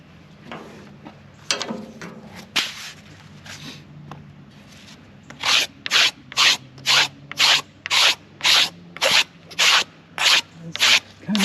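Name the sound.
scraping baby hickory wood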